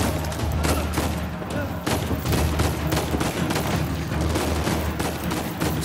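Sustained gunfire in the Uncharted 4 video game, rapid volleys and booming shots layered into a dense, loud, continuous firefight with no pauses.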